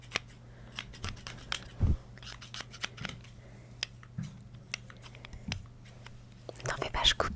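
Scissors snip hair at a salon-style haircut, crisp close-up clicks repeating in irregular bursts throughout, with soft whispered speech in between.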